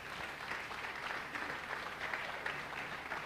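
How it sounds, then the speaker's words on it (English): Audience applause at an event called Innovate 24 fills the room, a steady, moderately distant wash of clapping that continues evenly without any voices over it. "Please, can you clap for yourselves?"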